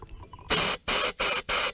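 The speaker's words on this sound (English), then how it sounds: "took some compressed air, spray up in the tube" Compressed air blasted up the cowl drain tube of a 1991 C4 Corvette, four sharp hissing bursts in quick succession, loud and close.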